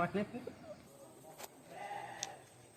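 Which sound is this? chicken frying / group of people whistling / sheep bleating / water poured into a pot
sheep bleating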